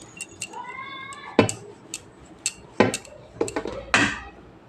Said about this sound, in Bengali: থালার ওপরেই বেলে নিচ্ছি।